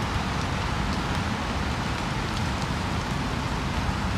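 Steady, even rain falls outdoors where squirrels and pigeons gather, a continuous hiss with no breaks throughout.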